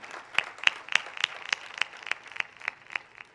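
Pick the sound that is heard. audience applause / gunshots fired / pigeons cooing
audience applause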